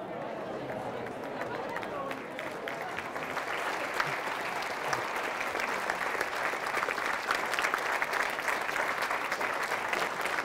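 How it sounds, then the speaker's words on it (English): An audience applauds a speaker at a public talk in St. Catharines, Ontario: dense, sustained clapping from many hands, steady and moderately loud throughout. "Thank you so much, everyone, for that nice applause"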